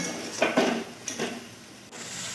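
Spice paste being stirred and fried with a little water in a pan while cooking a pointed gourd and paneer dish, with a few close scraping rubs of the spoon against the pan between quieter stretches.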